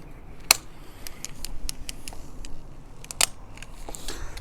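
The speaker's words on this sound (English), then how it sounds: "Wait for that to click in place." A Matrix Fishing quad pole roller leg locks into place with two sharp clicks about three seconds apart, close and clear, with a few faint ticks between them.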